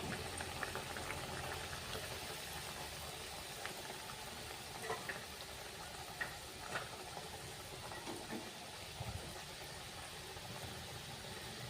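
Nippattu, crisp Karnataka rice crackers, deep-fry in oil over a low flame, giving a steady, quiet bubbling and crackle that holds evenly throughout with no talking.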